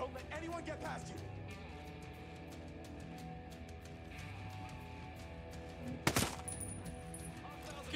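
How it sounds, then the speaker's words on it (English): Gunfire in Ghost Recon Breakpoint during a snowy mission: scattered sharp shots and short automatic bursts crackle across the scene, with one loud, close blast near the end, over steady background game ambience and voiced callouts. "Watch for enemy fire!"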